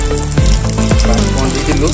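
Panch phoron spices sizzling in hot oil while pork with bamboo shoots is cooked, a loud, steady, close crackling fry that carries on throughout with faint stirring.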